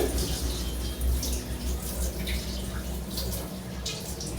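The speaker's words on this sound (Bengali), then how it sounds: "জল দিয়ে দিলাম হাফ বাটির মতো।" Water poured into a bowl while steaming prawns with mango, a steady continuous splashing rush that holds at an even level throughout, with no speech over it.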